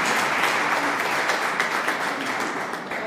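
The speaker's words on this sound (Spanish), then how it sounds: "Un aplauso, gracias." A steady wash of crowd applause, dense and continuous, with many hands clapping at once and no voices standing out.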